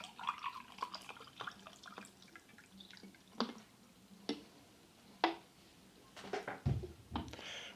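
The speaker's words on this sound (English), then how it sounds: "now let's try some of this carbonated water." Homemade yeast-carbonated water poured from a bottle, heard as scattered drips, splashes and small fizzy ticks, fairly quiet and close, with a sharper splash near the end.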